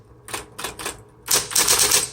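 Keys clack on a 1970s Smith Corona Electra 120 electric typewriter in metallic blue: a few separate strikes, then a rapid, louder run of dense typing, close and with no voices.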